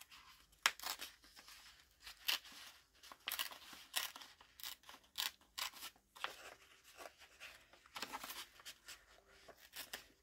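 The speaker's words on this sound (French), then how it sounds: "Allez, je déchire." Pages of a paper book are torn out by hand for small art crafting, with a series of close, crisp ripping bursts in irregular rhythm between quiet pauses and no voices.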